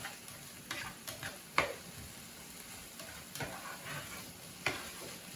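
Scrambled eggs and peppers are stirred in a frying pan, with faint sizzling and occasional soft scraping taps of the utensil against the pan.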